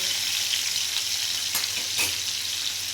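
Garlic frying in hot oil on a stove gives a steady bright sizzle, quiet but continuous, with two brief sharper crackles near the middle and no voices.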